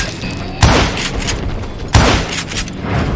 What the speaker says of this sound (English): Who's shooting at us? We're under fire!